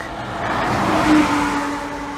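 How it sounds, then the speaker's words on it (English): A vehicle passes nearby on a road, its engine swelling to a peak mid-way then easing off, a single loud pass with no talking. "There's another truck coming, don't worry."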